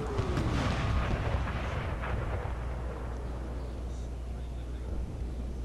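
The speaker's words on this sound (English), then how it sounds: "Oh, their howitzers just scored a great hit." Heavy booming howitzer blasts rumble continuously in an American Civil War video game battle at Wilson's Creek, with deep low thuds and a dense roar of distant cannon fire.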